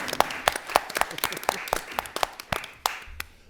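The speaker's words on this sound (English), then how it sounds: "let's give a final round of applause to these incredible artists" Scattered, sparse clapping from a small audience for artists after a conversation event, individual claps standing out irregularly and thinning toward the end.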